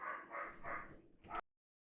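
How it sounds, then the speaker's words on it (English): A real dog barks in quick succession, three or four sharp, close woofs with a whimpery edge, fairly loud, ending abruptly into silence. "I do believe there is a barking dog on the vessel"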